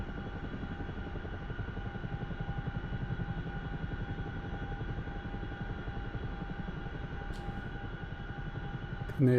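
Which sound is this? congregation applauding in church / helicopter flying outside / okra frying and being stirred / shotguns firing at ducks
helicopter flying outside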